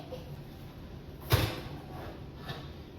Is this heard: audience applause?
no